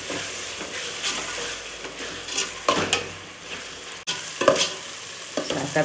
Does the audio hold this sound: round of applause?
no